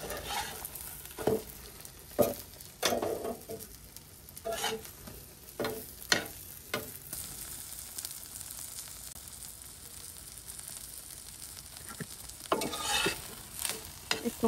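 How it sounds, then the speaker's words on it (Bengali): Eggs fry in a pan with a soft, continuous sizzle. Repeated spatula scrapes and stirring clatter come in irregular bursts, close by and fairly quiet, with no talking. "ডিম ভাজবো"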